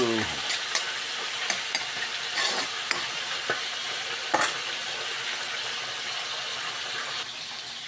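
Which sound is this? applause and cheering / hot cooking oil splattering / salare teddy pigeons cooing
hot cooking oil splattering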